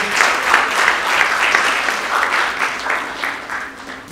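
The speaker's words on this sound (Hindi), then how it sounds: "जोरदार ताली से उनका आप भी स्वागत कर सकते हैं" Audience applause welcoming Dr. Faisal Khilji at a book launch event, a steady, dense clapping from a crowd that holds strong throughout and begins tapering slightly at the end, with no voices over it.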